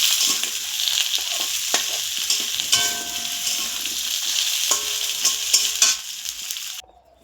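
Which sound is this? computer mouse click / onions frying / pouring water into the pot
onions frying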